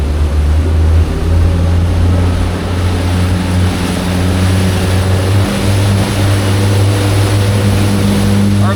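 An outboard engine on an East Cape EVO boat is run up to about 3,000 RPM, a loud, steady droning hum with strong low tones, a short dip partway, and water rushing beneath.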